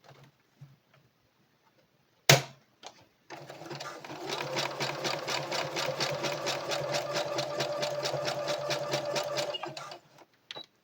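A sewing machine stitches a hair bonnet in a rapid, even mechanical chatter lasting about six seconds, preceded by a sharp knock and a few quiet handling sounds.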